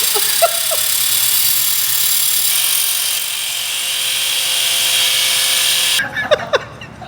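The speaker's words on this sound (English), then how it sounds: "put this thing on a drill, spin her around with an angle grinder" A drill spins a part from a race-service job on an HP4 while an angle grinder grinds it down, giving a loud, steady high-pitched whine that cuts off abruptly near the end, followed by brief clanks.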